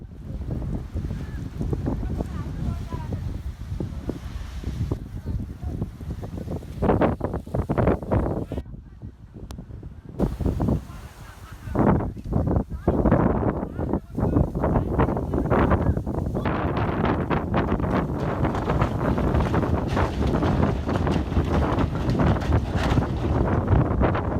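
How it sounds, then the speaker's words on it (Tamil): A whirlwind sweeping ashore at Poonochchimunai beach in Batticaloa produces a loud, continuous roar of gusting wind buffeting the microphone, rising and falling in rough surges throughout. "சுழல் காற்று கரைக்கு வரும் காட்சிகள் அங்கிருந்தவர்களின் கேமராவில் பதிவானது"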